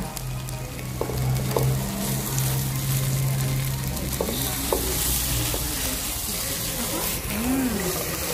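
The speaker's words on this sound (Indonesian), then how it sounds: "kita masukkan udangnya" Shrimp go into a hot pan with meatballs for Indonesian fried rice, sizzling and frying steadily while a utensil stirs and scrapes, with scattered clinks; a voice speaks briefly over the cooking.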